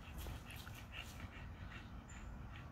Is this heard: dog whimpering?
yes